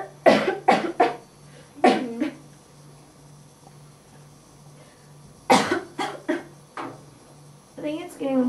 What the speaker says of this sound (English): I've got this really bad cough.